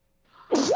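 A single human sneeze, close and loud, with a short breathy intake building up before the sharp burst, heard alone during a tabletop roleplaying game session.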